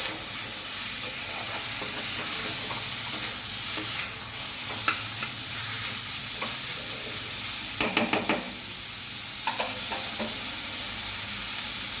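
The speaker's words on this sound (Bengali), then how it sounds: "এবার চিকেনটাকে ভালো করে পেঁয়াজ লঙ্কার সাথে একটু কষিয়ে" About 250 grams of chicken sautéing with onion and chili in a pan, a steady close sizzle and hiss with intermittent scraping stir strokes, louder bursts of spatula clatter around the middle, no voices.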